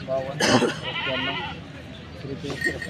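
A calf bleats loudly once near the start, followed by a drawn-out lowing call, with people talking and a busy murmur in the background at a cattle and bullock market.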